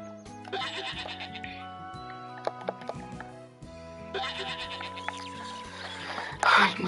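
A farm goat in the video game Story of Seasons: A Wonderful Life lets out repeated bleats over looping game background music, clear and fairly close, with a brief rustling burst near the end.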